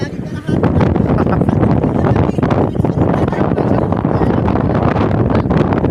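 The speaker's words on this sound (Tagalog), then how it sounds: "Lumakas na naman ang hangin, oh." Strong monsoon wind at sea buffets the microphone in loud, continuous gusts, with a roaring rush throughout.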